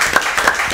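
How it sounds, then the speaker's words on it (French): A studio audience at a televised school quiz gives a brief, dense burst of clapping. "On applaudit, on l'encourage quand même"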